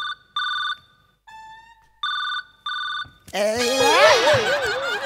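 A phone ringtone trills in short repeated bursts, then a person bursts out laughing over the end of it.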